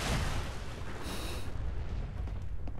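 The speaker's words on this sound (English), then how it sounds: "Ooh, that was a big explosion." In Fallout 4, a big explosion booms with a broad, rumbling blast that lingers loudly for the full few seconds, with a second burst partway through.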